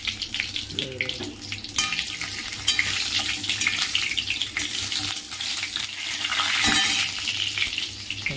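Dried red chillies and a bay leaf sizzle in hot oil in a kitchen pan, giving a steady crackling hiss with occasional clinks of utensils. No voices are heard.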